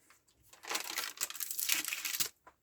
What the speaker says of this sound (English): I'm using a straight edge and a knife. It makes a nicer cut